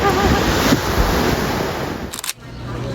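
Surf washing in a wave pool by the sea in Santa Barbara, a continuous rushing wash with wind buffeting the microphone, a brief clatter near the end, and a voice faintly present.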